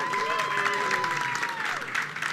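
Audience applause at a live NAMM 2013 show taping, a steady wash of clapping from a crowd with a voice talking over it.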